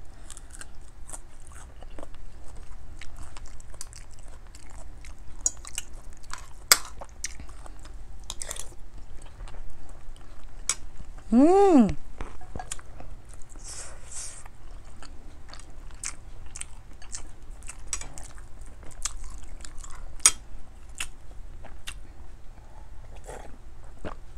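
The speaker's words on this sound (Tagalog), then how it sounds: "malutong talaga yung sili. Masarap ah." Crunchy chili peppers are chewed up close in steady, crisp bites that repeat through the whole stretch, with a brief vocal sound near the middle.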